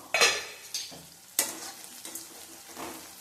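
Small shallots and drumstick pieces cook in a covered pan on a low flame, giving soft stirring scrapes and gentle sizzling in a few quiet bursts as the lid comes off.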